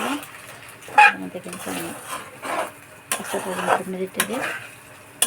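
Pasta mixed with pasta masala in a pan makes intermittent scrapes and knocks of a utensil against the pan, with a faint sizzle underneath as someone talks over it.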